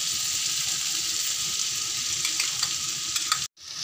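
Carrot, potato and peanuts fry in a pan with a steady close hiss and sizzle, light scraping of stirring throughout and a brief dropout near the end.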